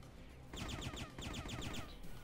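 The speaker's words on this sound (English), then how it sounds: "I'm being shot from all over." Rapid bursts of gunfire are aimed at the player in the 2009 PC shooter Blind Shot: Assassin's Confession, a fast rattling volley of repeated shots that starts abruptly and runs steadily for over a second before cutting off.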